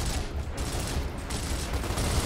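Gunfire in Gears of War: Ultimate Edition, with dense, continuous bursts of automatic shots rattling for a couple of seconds at fairly low level.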